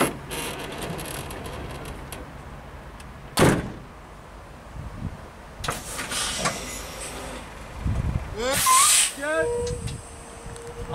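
A heavy vehicle door is shut with a loud, sharp thud during a truck coupling and uncoupling demonstration, followed by hissing air and other clunks and mechanical noise.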